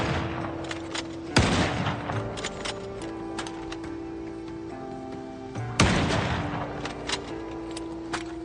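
Gunshots in the video game Project Zomboid: two sharp, loud reports spaced several seconds apart. Quieter clicks and a steady ambient tone continue between them.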